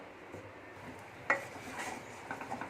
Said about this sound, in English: So we are adding now all the sweet corn to the masala.